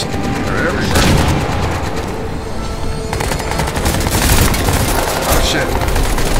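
A frag grenade blast and heavy automatic gunfire in Crysis 2 make up a loud, continuous barrage, with booming hits and rapid rattling shots running through the whole stretch.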